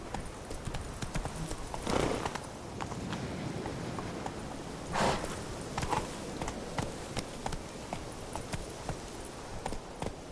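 Geralt's horse Roach trotting in The Witcher 3, a steady, faint clip-clop of hooves running for ten seconds, with a couple of louder thumps and light ambient buzzing behind.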